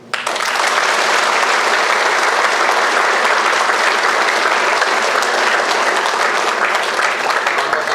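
An Army event audience gives award recipients a louder, sustained round of applause, with thick, continuous clapping that starts abruptly and stays strong and even to the end.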